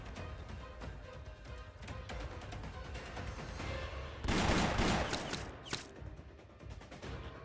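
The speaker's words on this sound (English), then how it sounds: "Let's make up for all those gunshots we haven't heard over the years." Rapid gunfire from turrets in a video game, dense crackling bursts under a music-like background, swelling into a loud sustained volley near the end before thinning out.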